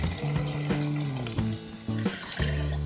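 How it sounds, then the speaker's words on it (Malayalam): Water is poured into a curd curry of beaten yogurt in a pan, giving a close, steady pouring stream with a gurgling, shifting pitch and no talk. "അതിനോട് നമുക്ക് കുറച്ച് വെള്ളം കൂടെ ഒഴിച്ചു കൊടുക്കാം."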